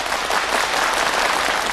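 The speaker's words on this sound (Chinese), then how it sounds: "掌声表示感谢" Audience applause at a Yue opera concert featuring masters of the genre's schools: dense, steady clapping from a large crowd, loud and continuous throughout with no speech.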